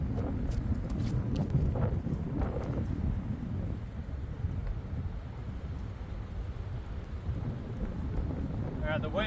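Strong wind buffets the microphone on an outdoor disc golf course, a steady low rumble that lasts throughout, with someone talking over it early on.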